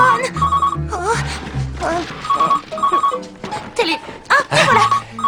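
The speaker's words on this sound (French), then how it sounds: "Ah, le téléphone! Le téléphone!" A telephone bell rings in repeated bursts through a French television drama scene, sounding close and clear while people talk over and between the rings.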